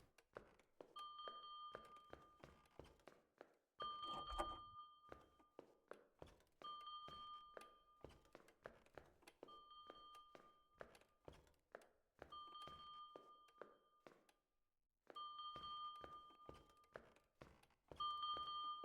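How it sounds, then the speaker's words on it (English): Bell chimes in the video game Korpus, repeated clear metallic dings in a steady rhythm with short gaps, ringing alone over faint thuds and quiet background. "Follow the bell."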